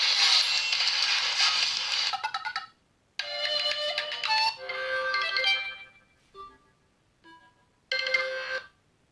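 A bright electronic ringtone plays through the small built-in speaker of a Blueboo Xtouch 4G phone in tinny bursts of chiming tones, broken by short pauses, with no one talking.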